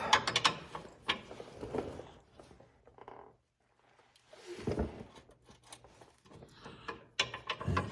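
A wrench turns a bumper nut on a stud of a 1976 Trans Am, making close, clattering ratchet-like metal clicks in bursts, with a brief quiet pause midway before the turning resumes.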